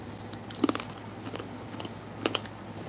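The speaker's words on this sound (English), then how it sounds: "I'm going to go ahead and take a taste of this banana chip." A crunchy banana chip bitten and chewed up close: a couple of crisp crunching bites followed by a brief pause and another short cluster of crunches, quiet and without speech.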